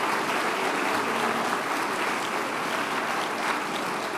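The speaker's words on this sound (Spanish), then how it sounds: "hay un aplauso para los..." Sustained applause from a large audience at an Argentine event hosted by Milei with government ministers, dense and steady clapping throughout with no talk over it.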